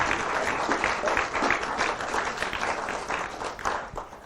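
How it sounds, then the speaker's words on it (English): Audience clapping at a ward candidates forum, a steady wash of many hands applauding from a mid-distance, sustained evenly for several seconds without voices. "Give them a round of applause and make them feel welcome."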